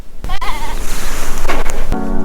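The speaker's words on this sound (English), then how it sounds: "Come up to the top because I saw some mountain goats." Mountain goats near Zermatt bleating up close, one loud wavering bleat followed by another shorter call, with wind and rustling around them.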